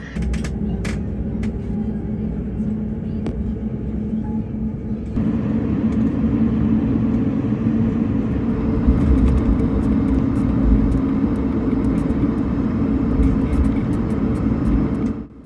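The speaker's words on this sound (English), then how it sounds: "After a really short taxi, it was time to get on the runway and get in the air." An airBaltic airliner taxis toward the runway, heard from inside the cabin as a steady low engine rumble with faint clicks, growing louder and fuller partway through as thrust increases.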